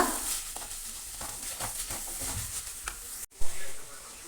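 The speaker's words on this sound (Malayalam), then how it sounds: "തക്കാളി ചെറുതായിട്ടൊന്ന് വാടുന്നത് വരെ ഇങ്ങനെ ഇളക്കി കൊടുത്തോണ്ടിരിക്കുക." Chopped tomatoes frying in a pan, a soft continuous sizzle broken by scraping stirs, quiet and close, ending with a brief louder knock.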